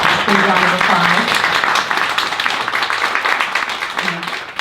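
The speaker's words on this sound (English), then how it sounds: "Big round of applause." Audience applause at a community house-meeting program on intergenerational activism: steady, dense clapping fills the whole stretch at close range, with voices calling out over it before it starts to thin at the end.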